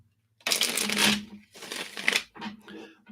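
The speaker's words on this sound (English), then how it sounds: "Let me just shuffle this one more time." A deck of reading cards being shuffled during a live card reading: two longer riffling bursts of papery card noise, then a few shorter flutters, fairly close.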